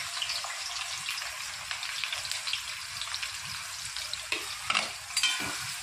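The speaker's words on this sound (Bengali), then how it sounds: "আমি পেঁয়াজগুলো তেলে দিয়ে হালকা করে ভেজে নেব" Onions fry in hot oil with bay leaves for a Bengali chicken dish, giving a steady, dense sizzle with a few spoon clatters and stirring knocks near the end. No one speaks.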